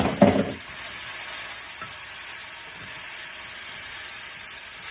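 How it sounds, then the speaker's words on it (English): Soy chunks and vegetables sizzle over medium-low heat in a pan for a vegan butter bean chunky veg mix. A brief stir clatters at the start, then a steady hiss settles in on its own. "So we're going to just saute this"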